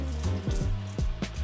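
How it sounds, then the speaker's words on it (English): Milk pours from a giant syringe down a tube and runs out of the teats of a cake-prop puppet, a soft continuous trickle with a few splashy drops, close and fairly quiet. "Look how the milk falls out of those teats at the bottom."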